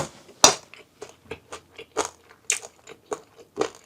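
Someone bites into and chews bomdong bibimbap, with a sharp crunch at the first bite followed by a steady series of close, crisp chewing crunches.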